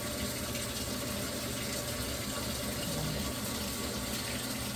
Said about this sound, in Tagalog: Naglalagay siya ng tubig na mainit. Kasi maglilinis siya ng sarili niya.